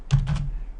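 Quick keystrokes on a computer keyboard: a short close burst of about three or four taps in under a second.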